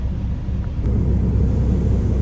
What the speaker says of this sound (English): That is my plane landing.